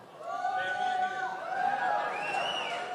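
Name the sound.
weak crowd cheering at fishing tournament weigh-in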